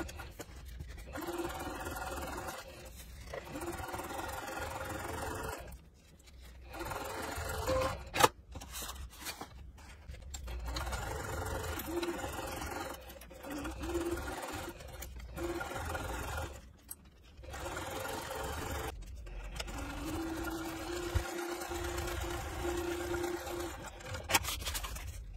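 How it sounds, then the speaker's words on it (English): A sewing machine stitches a quarter-inch seam on a fabric dust cover for a Cricut Maker, running in steady bursts separated by short pauses, with no talking. "I'm gonna take it to the sewing machine now and stitch it at a 1/4 inch seam allowance on each side"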